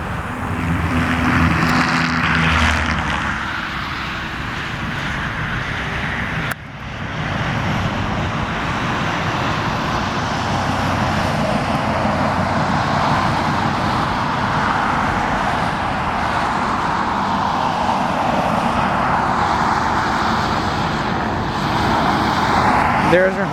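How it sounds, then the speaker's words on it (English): A United Boeing 737-800 taxis to the runway at Portland airport, its engines making a steady, broad jet roar that holds at an even level for the whole stretch, with faint distant traffic noise underneath. "our United 737-800 is now taxiing to its runway."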